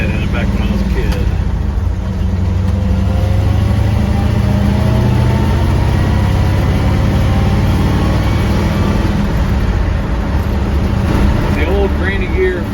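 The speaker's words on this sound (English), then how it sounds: "This AX15 actually gives me some nice gear whine" An old project car with an AX15 transmission driving in winter, a loud steady engine and drivetrain drone with a faint rising whine, someone talking over it.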